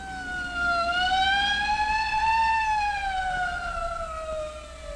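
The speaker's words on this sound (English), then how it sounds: "Hey, a police car." A police car siren from a 1957 film wails in a long, steady rising and falling tone, loud and fairly close, sounding alone.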